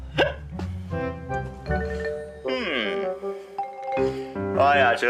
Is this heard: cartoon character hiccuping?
yes